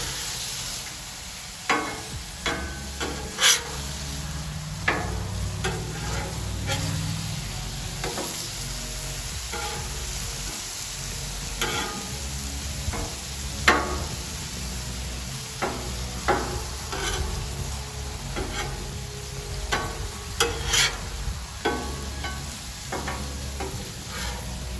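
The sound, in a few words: shrimp sizzling on a Blackstone griddle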